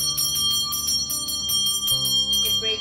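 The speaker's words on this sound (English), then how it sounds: "when you're going through your space and you're ringing the bell" A bright mixed-metal bell rings repeatedly in quick strikes, its sustained high overtones shimmering and overlapping, close and fairly loud with no voices.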